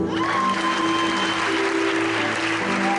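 A church congregation at a worship gathering in Cameroon applauds in praise, sustained clapping with a faint sung or held tone over it. The sound is moderately loud and stays steady.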